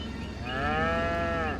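A farm cow gives a single drawn-out, rising and falling moo, fairly close and clear over a quiet low hum.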